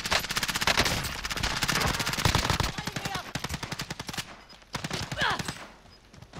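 Rapid automatic gunfire from the video game Call of Duty Warzone rattles in dense, fast bursts with short pauses between them. Quieter talk from players sits underneath.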